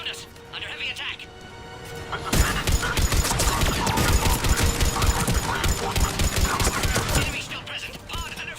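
Rapid gunfire during an attack in the video game Mass Effect 3, a sustained loud fusillade starting after a quieter opening, with game voices talking over the shooting.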